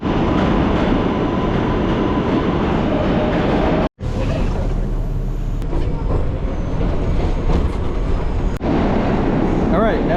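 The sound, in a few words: subway train riding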